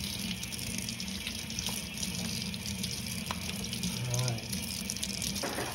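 Tap water running steadily in a sink as a small reddish-orange cichlid is rinsed before aquarium acclimation, a quiet continuous flow with some talking.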